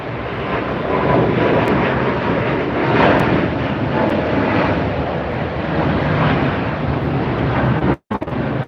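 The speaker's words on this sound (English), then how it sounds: "here goes Eva Air out" An Eva Air airliner departs LAX with a broad, steady roar of jet engines that holds loud and even for about eight seconds, then cuts out briefly near the end.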